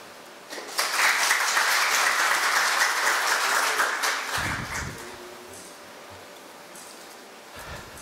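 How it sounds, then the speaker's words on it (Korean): An audience at a Korea Cyber University forum on Korean language and culture applauds to welcome the university president, close steady clapping that fades after a few seconds into quiet room sound with a brief low thump. "힘찬 박수로 맞아주시기 바랍니다"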